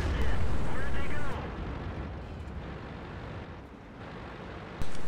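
In the World of Tanks video game, a Hummel self-propelled artillery gun fires with a loud, heavy boom that rumbles and fades over about a second. A second sharp blast cuts in near the end.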